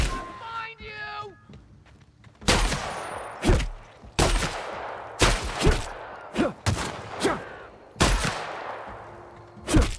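A shotgun fires in the video game The Outer Worlds, with around eight loud, sharp blasts at irregular intervals. Each blast decays quickly, and voices are heard between the shots.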